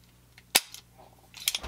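A single sharp metallic snap as a Savage 62F rimfire rifle is dry fired during a function check, followed by faint handling clicks and rattles of the action, close and alone without speech.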